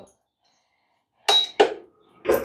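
Metal pan set down on a kitchen stove to roast cashews for wheat payasam: after a silent stretch, two quick clattering knocks, then a third heavier clunk, close and fairly loud.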